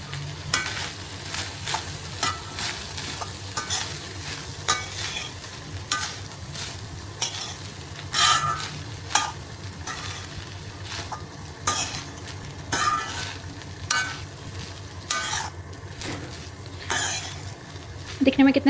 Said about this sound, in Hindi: राइस ऐड करने के बाद हम इसको अच्छे से मिक्स करेंगे।